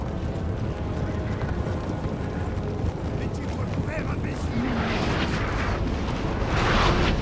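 Cannon artillery fire in the Napoleon Total War strategy game, repeated booming shots and rumbling impacts over a continuous battle din, with someone talking over much of it.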